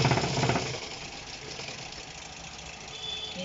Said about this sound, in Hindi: ये हमारी मोटर से मशीन चल रही है